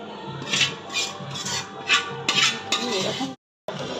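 A spoon scrapes and clinks around a pot as fried spices are stirred into khichuri, with about six rhythmic close strokes, then a brief silence before the stirring resumes.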